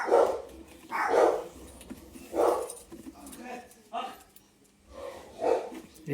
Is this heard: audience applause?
no